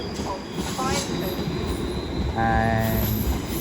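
A London Northwestern Railway Class 350 electric unit rolls into London Euston on the West Coast Main Line, steady rumble with wheel squeal and a rising tonal whine, while a voice briefly speaks.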